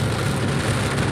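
Heavy afternoon rain falls in a steady, close, unbroken patter with no voices.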